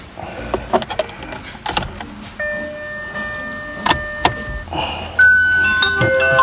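A car's key is turned in the ignition, bringing the electrical system to life with a chime and beeping tones and a rising hum in the cabin, set amid clicks and handling noises during a DIY LED headlight strip install.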